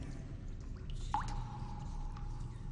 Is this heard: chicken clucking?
no